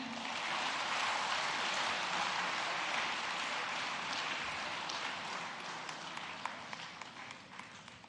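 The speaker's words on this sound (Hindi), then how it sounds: "जोरदार तालियां हो जाएं।" Audience applause in an auditorium at a government ceremony in Bhopal, a broad, sustained rush of clapping from a large crowd that gradually thins toward the end, somewhat distant and without speech over it.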